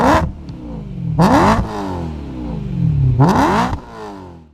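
A BMW M3 sports car engine revs hard twice in sharp bursts, rising and falling in pitch, loud and close, with a rumbling idle between.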